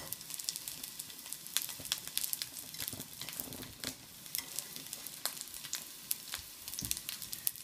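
Entoloma mushrooms sear in a very hot pan with a steady crackling sizzle and scattered sharp pops and spits, close and continuous, with no talking.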